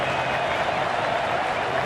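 Baseball stadium crowd at a Cubs versus Cardinals playoff game, a dense sustained roar of cheering and clapping filling the whole stretch, loud and steady without breaks.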